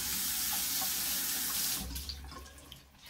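Water runs steadily from a faucet into a sink to wet a washcloth or sponge, a close, continuous splashing hiss that drops off partway through as the flow changes.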